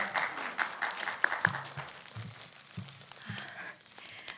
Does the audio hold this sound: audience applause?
yes